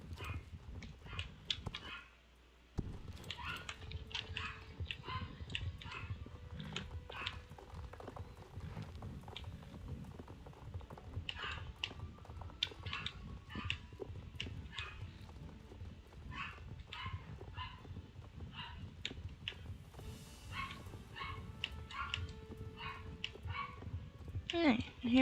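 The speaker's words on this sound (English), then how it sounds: "Sorry for the dogs in the background," Dogs barking and whimpering off in the background of a room while a horse's hooves clip-clop steadily from a Star Stable game, with a person talking over most of it.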